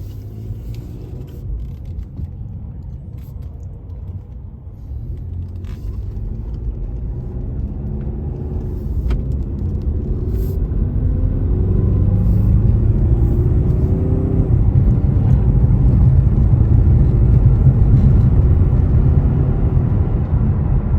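A Ford Mustang, not the GT version, driving with a smooth low engine and road rumble that swells louder and rises in pitch as it accelerates, heard from inside the car with no talking.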